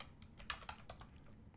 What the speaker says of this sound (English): come to our start menu and type CMD in the search